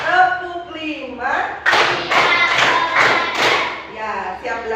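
Five crisp, evenly spaced hand claps in a classroom clapping routine that opens an artificial intelligence lesson, loud and close, with speech before and after the clapping.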